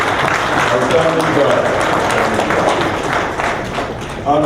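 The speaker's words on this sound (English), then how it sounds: "Another round of applause for a wonderful university activity." An audience at a closing plenary session of a diaspora engagement conference gives a round of applause, a continuous crowd clapping that fills the room, with people talking through it.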